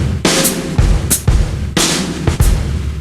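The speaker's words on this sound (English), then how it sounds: "the same kick and snare part we've had all along" A drum kit plays a kick and snare pattern within a 16th-note groove, with deep kick thumps alternating with sharp, bright snare cracks, close and loud, with no voices.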